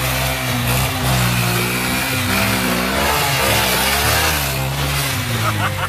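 A motorcycle engine revving loudly and continuously as the clutch is let out, pitch rising and falling through the clip, close up, with a voice talking over it.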